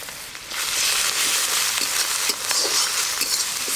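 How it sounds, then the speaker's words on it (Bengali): Browned chopped onion with ginger-garlic paste fries in a pan, a loud, steady sizzling hiss from start to end with faint scraping as it is stirred, and no voices. "যতক্ষণ না আদা রসুনের কাঁচা গন্ধ যায় ততক্ষণ এইভাবে নাড়তে থাকবো, তাড়াতাড়ি ভাজা হয়ে যাবে"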